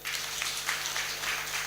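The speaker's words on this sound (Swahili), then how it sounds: "So jipigieni makofi tena." Applause at a ward MCAs debate, brief and fairly faint, sounds like a small crowd clapping at a distance with a soft, even patter.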